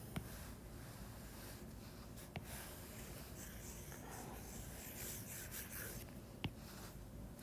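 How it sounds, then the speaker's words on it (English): A stylus rubs back and forth across an iPad screen while erasing in the Notability app, a faint, steady scratchy swish with a couple of soft taps. "now when I erase, it's only going to erase where I am moving that eraser"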